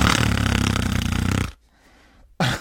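A voice mimics the snore of the cartoon dog Goofy, a long, loud, buzzing and fluttering snore of about a second and a half, then a short near-silent gap before another loud burst starts.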